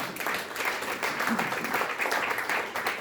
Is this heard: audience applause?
yes